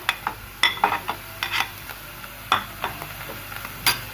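Capsicum and tomatoes fry in a pan, a steady soft sizzle broken by sharp clicks and scrapes of a utensil stirring every half second or so.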